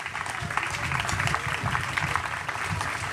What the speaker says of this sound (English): So round of applause there